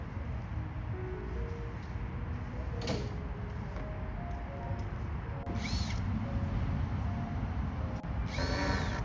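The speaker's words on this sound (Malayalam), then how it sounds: "ഇപ്പോൾ അതിന് സ്ക്രൂ ചെയ്ത് കയറ്റുന്നത് കേട്ടോ" A power drill drives screws into a wooden fitting at a house under construction, with short whirring bursts spaced a few seconds apart over steady background noise and occasional clacks.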